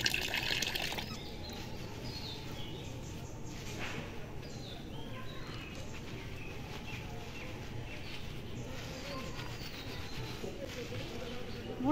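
Water from a tank pours and trickles steadily while long hair is being washed, making a continuous soft splashing that stays moderately close, with faint birdsong and some quiet talk in the background.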